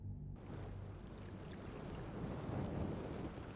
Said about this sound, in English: There's the sound of waves.